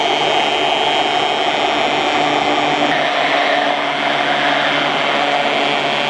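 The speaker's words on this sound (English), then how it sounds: "If you don't have an immersion blender, I highly recommend" An immersion blender whirs loudly and continuously while emulsifying olive oil in a home kitchen, a dense high-pitched motor whine that holds steady throughout with a slight shift in tone midway, with no talking.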